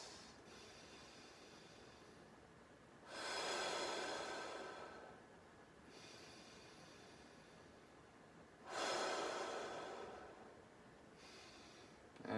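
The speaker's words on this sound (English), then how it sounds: "pausing to take in a few breaths" Slow, deep breaths in and out during a guided neck stretch, two long airy inhale-exhale swells several seconds apart over a quiet background, with no talking.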